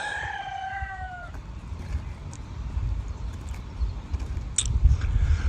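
Chickens at a roadside stop in Erick, Oklahoma cluck and call, including a drawn-out crow at the start, over rumbling outdoor background noise.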